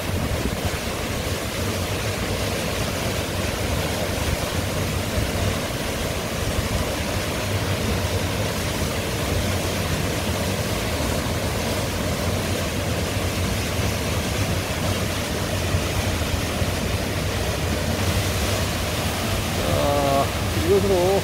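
Steady, powerful rush of Biryong Falls in Seoraksan roaring continuously, broadband and loud throughout, with wind buffeting the microphone.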